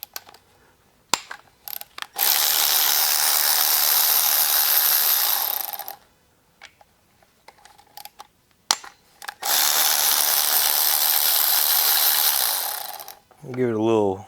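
A ratchet works on the 12 mm cam carrier bolts of a 2017-or-later Hyundai Elantra during a head gasket job. Two long, loud, steady mechanical whirring bursts sound up close, separated by brief clicks and handling noise.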